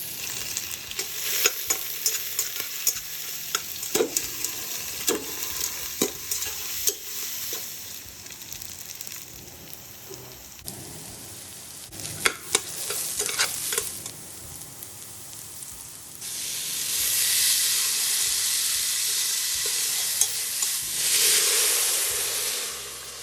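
Onion frying in a pan for dal chorchori, an Iftar dish: a continuous sizzle under repeated scraping and clattering stirring strokes, then a louder hissing surge of steam near the end, all close and without speech.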